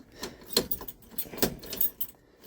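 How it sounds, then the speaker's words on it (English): Car keys jangle in a metallic clatter inside a 1973 Dodge D200 pickup with a 360 engine and 727 automatic, several sharp rattling bursts close by with no talk. "Let's see, we got keys, perfect."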